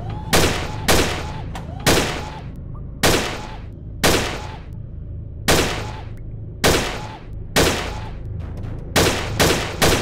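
Video game gunshots in Gun Club VR's S.W.A.T. mode, about a dozen sharp, loud single shots fired at uneven intervals, each with a short decay, with faint game voice lines in between.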